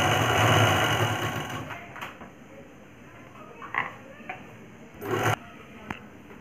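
A sewing machine stitches a blouse lining with a loud steady motor whir that stops after about two seconds, followed by quieter fabric handling and a couple of brief bursts.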